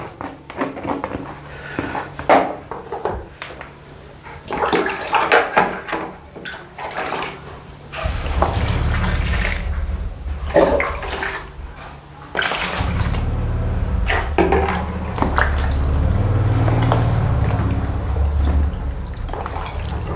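Water splashes and pours while something is rinsed in a basin, irregular sloshing at first, then a steadier rushing flow of running water, close and moderately loud.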